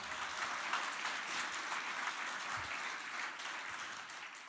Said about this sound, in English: Round of applause to the graduates.